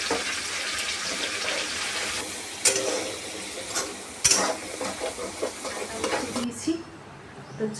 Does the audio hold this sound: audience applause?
no